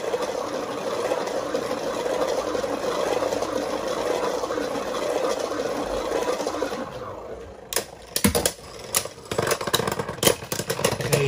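A Beyblade B-152 Venom Pegasus spinning-top toy with a motor, a continuous buzzing whir for about seven seconds, then sharp clattering clicks and knocks as it stops.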